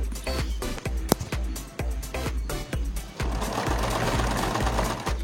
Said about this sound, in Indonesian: Kemudian kita jahit di ujung dari kain tadi ya, kita jahit